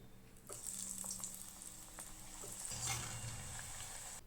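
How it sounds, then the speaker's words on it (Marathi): Thin steamed alu vadi slices of colocasia leaf roll fry in hot oil with a bright, steady crackling sizzle, close and continuous, with a few soft knocks from the pan along the way. "तेल तापलं आहे तळून घेते"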